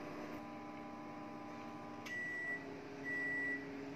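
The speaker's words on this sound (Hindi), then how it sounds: "अब इसको 30 सेकेंड के लिए पहले माइक्रोवेव करेंगे।" A microwave oven hums steadily while heating curry leaves on a tray, then its pitch shifts partway through and a thin high electronic tone sounds twice near the end.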